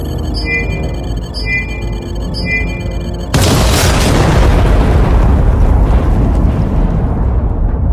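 A capsule blown apart in a sci-fi drama: repeated electronic beeping gives way abruptly to a loud, sustained roaring blast that slowly fades.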